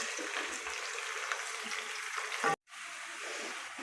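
Onions frying to light brown in a pan over a medium-low flame, a steady dense sizzle throughout that cuts out abruptly for a moment near the end, then resumes more quietly.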